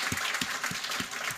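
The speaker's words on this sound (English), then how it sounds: "I'd like to give Josh another round of applause for thanking him" Audience clapping after a talk on combining type systems with PHP, a short burst of close, steady applause from a small room with regular clap peaks throughout.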